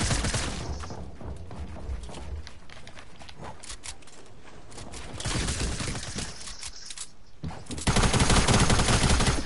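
SMG gunfire in a shooting video game, with rapid bursts of automatic shots separated by short gaps and a loud final burst near the end.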